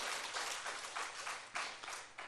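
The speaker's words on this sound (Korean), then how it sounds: "박수 한번 치고 감사합니다 하고 영광을 받습니다." Congregation clapping during a dawn worship service at a church in Bucheon, a quiet, steady patter of many hands with a few stronger bursts, heard alone.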